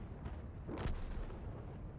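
A single heavy tank cannon shot from an MKpz 68 (P) in World of Tanks booms once mid-clip over a low rumbling battle background, with no voices.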